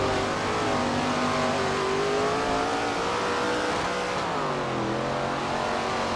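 Race cars roar through a 50-lap race at Madison Lake in the SRX racing video game, a continuous, loud layered engine drone whose pitch rises and falls steadily, with no commentary.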